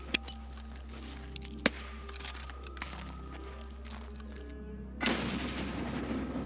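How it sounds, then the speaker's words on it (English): Grenade explosion in Escape from Tarkov, a few sharp clicks and knocks followed by a sudden loud blast that leaves a noisy, roaring tail to the end. "That was my nade again."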